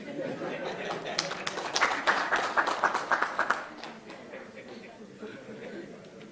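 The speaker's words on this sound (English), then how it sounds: "Let's applaud the chair yet again." Conference audience applauding a session chair at an academic meeting, a scattered round of clapping that swells and fades after a few seconds while a speaker talks over it.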